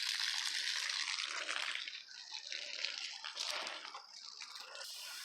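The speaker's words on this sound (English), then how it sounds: "I'm going to water it down so I can till it up." A garden hose spraying water onto dry garden ground before tilling, a steady hissing spray with shifting intensity as the stream moves, close and moderately loud, with no talk.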